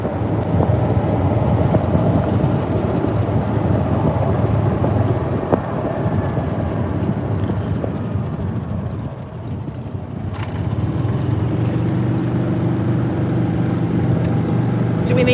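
Golf cart driving through The Villages, a steady low rumble of motor and road noise with wind, close and continuous, with people talking over it at times.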